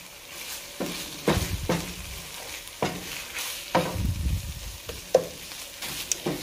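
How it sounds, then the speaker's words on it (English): Tomato paste frying in a pan for turkey taco bowls, a low crackling sizzle broken by several spoon-stirring scrapes and pushes at irregular intervals, close and quiet with no talk. "you have to make sure to fry it in the pan and wake up the flavor before you continue"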